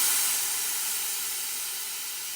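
Pressurized air hissing out of an air compressor tank through its pulled safety valve, a loud, steady, close jet of air that eases slightly over about two seconds.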